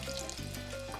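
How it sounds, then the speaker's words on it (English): Alcapurrias frying in hot oil, a steady soft sizzle and crackle running close and continuous through the whole second with no voices. "this is frying really nicely because it came up all by itself without having to touch it"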